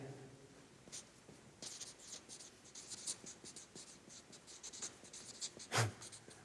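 Pen on paper writing something down, a close series of soft scratchy strokes and taps with one sharper knock near the end, quiet and without speech.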